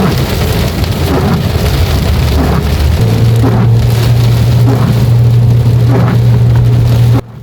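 Steady rain drums on a vehicle during a drive through forest, a dense continuous patter heard close over a low engine and road hum, cutting off abruptly at the end.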